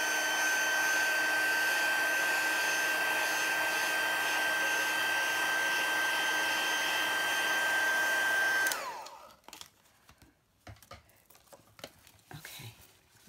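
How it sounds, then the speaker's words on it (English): An embossing heat tool blows hot air over a stamped card with a loud, steady, close whirring roar that cuts off sharply after about nine seconds, leaving faint handling noises on the craft table. "now, hit it with the heat too, because I don't want it to smell"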